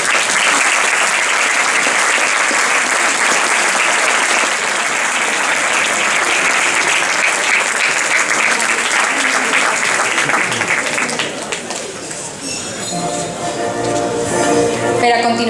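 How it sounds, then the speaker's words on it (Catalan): Loud, dense audience applause fills a hall at a children's Fallas exaltation ceremony, steady and sustained for several seconds before fading out as music begins. "un gran aplaudiment de tots"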